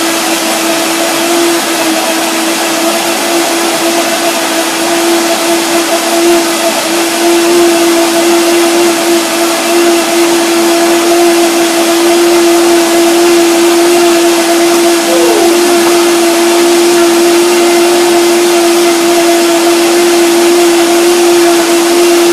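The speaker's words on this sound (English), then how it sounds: "I will see what happens if I blend this." A power blender runs continuously, blending raspberries, cashews and banana with a loud steady motor whine that holds one pitch throughout and dips briefly at one point.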